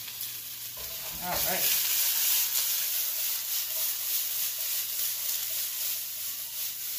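Broccoli sizzles and fries in a hot pan with a steady hiss throughout, a brief rattle of stirring or shaking near the start, and a short spoken remark over the cooking.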